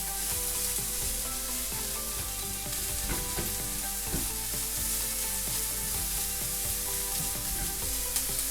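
Chopped or crushed garlic frying in a pan for spaghetti bolognese, a steady close sizzle that holds without pause, with faint clinks of stirring underneath and no voices.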